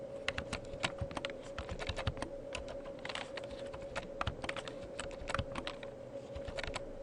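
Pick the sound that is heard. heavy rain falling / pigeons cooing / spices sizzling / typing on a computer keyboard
typing on a computer keyboard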